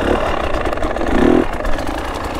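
A KTM 300 two-stroke motorcycle engine revs loud and close, its raspy note rising and falling through a short burst of throttle during wheelie practice.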